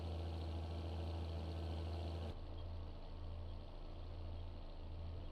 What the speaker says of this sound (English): This will be a great little hay tractor